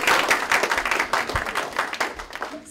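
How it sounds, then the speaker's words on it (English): Short burst of audience applause greeting a speaker at an FRCC Talks event, dense clapping throughout with a few louder claps standing out, no voices over it. "a confidence clap to welcome"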